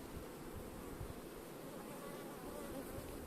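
Honey bees swarm around an open hive during an inspection, a dense, continuous buzzing hum close by and steady throughout, with no voices.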